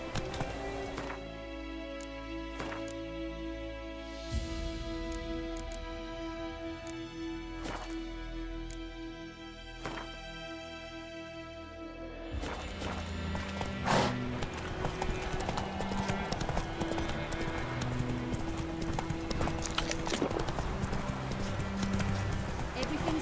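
Hooves of Roach, the horse in the game The Witcher III on PS4, clip-clop in a steady galloping rhythm under game music and ambience, growing busier and louder midway, with voices talking.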